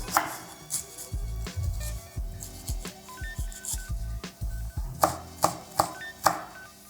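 Knife chops garlic and a habanero on a cutting board for cucumber chow: a run of quick, close, uneven thuds and blade taps, rising to sharper, louder strikes toward the end, with no talking.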